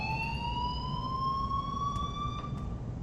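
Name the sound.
alarm ringing in the video game Life Is Strange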